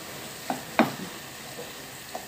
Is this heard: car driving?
no